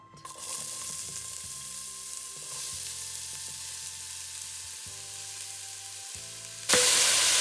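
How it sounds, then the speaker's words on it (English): Chopped onions frying in hot coconut oil in a saucepan, a steady close sizzle that continues throughout with a low hum underneath, then jumping louder and harsher near the end. "To the oil, I'm going to add 4 onions chopped"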